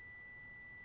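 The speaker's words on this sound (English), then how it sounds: "maybe we can start in continuity mode and measure the cap. If it beeps, that means the cap is bad." A multimeter in continuity mode beeps while probing a capacitor on an Asus gaming laptop motherboard, giving a steady, thin electronic tone that lasts just under a second, quiet and alone.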